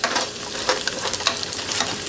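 Food sautés in a pan for bacon jam, giving a close, steady sizzle with occasional stirring scrapes and no talking.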